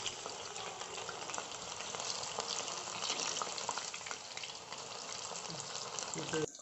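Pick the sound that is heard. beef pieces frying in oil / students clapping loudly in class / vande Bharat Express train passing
beef pieces frying in oil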